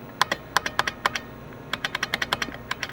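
Clacky keystrokes on an IBM Portable's buckling spring keyboard come in two bursts, a few spaced presses then a quicker run of sharp, close, loud clicks, with no talking.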